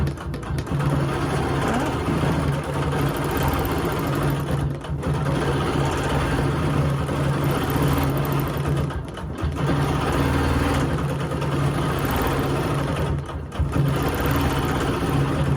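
A sewing machine runs continuously while free-motion quilting loops on a Dresden quilt, a steady, close mechanical hum and needle chatter with brief slowdowns and no talk.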